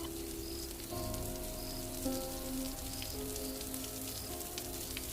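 Steady rain falls on a surface as a quiet background effect in a Hindi horror story, a continuous soft patter with scattered drips and low hum tones running beneath it throughout.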